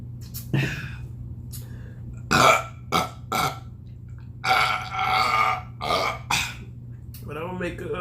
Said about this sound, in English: make a collage of me burping